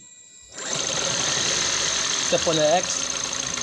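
Toyota Prius C hybrid engine with a lean-condition fault, running rough and misfiring: a steady close idle drone with uneven pulses, while someone speaks briefly.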